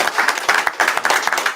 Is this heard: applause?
yes